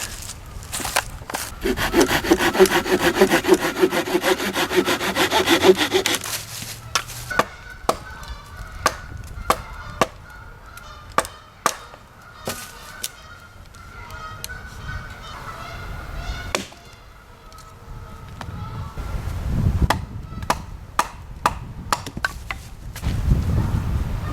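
Firewood is sawn and then chopped at an island campsite on a solo kayak overnighter: a steady rasping saw stroke first, then a run of sharp, close chopping impacts with pauses between them.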